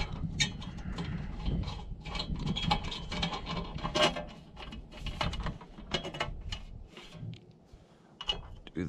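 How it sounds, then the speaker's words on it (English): Ratchet with a 10 mm socket working license plate bolts loose on a vehicle, a steady busy run of clicking and rubbing mechanical sounds throughout, fairly close and moderately loud, with no voice. "I'm just gonna quickly take off my plate with this 10 mil."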